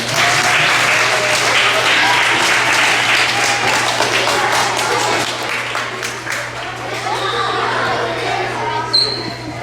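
Applause from a school assembly audience fills the room steadily and loud for most of the stretch, thinning slightly near the end, with a constant low hum underneath.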